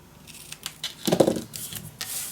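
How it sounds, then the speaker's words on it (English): Scissors snip through patterned scrapbook paper while a Graphic 45 Kaleidoscope album is trimmed, a few close, crisp cuts with a louder cluster of sharp snips near the middle and light paper rustling around them, no voices. "this one we need to cut down at the right spot here."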